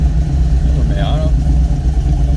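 A Mazda Miata at the Dream Cruise car event gives off a steady, loud low engine rumble, like idling, with a brief higher tonal chirp near the middle and background crowd noise.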